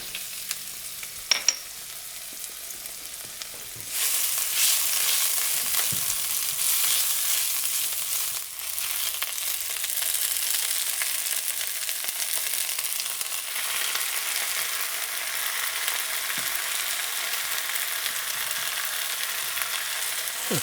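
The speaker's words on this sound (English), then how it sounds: "So a little bit of cooking oil, and we're going to fry it with a bit of spring onion and ginger garlic." Spring onion, ginger and garlic fry in cooking oil in a wok, a steady broadband sizzle that flares up loudly after a few seconds and holds evenly, with faint utensil taps and no talking.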